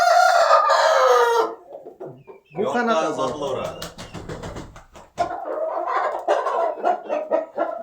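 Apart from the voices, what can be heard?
roosters crowing and clucking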